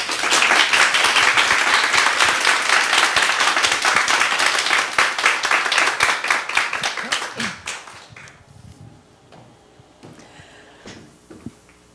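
Church congregation at a revival meeting applauds warmly to welcome a speaker, loud dense clapping for about seven seconds that fades out to near quiet with a few faint knocks.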